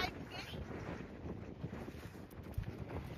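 Strong gusting wind buffets the microphone beside a high mountain lake on a trek, a steady close roar with rumbling gusts and occasional sharp thumps throughout.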